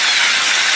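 Chicken pieces frying in hot oil for an everyday home-cooked dish, a loud, steady broadband sizzle filling the whole moment with no voices over it.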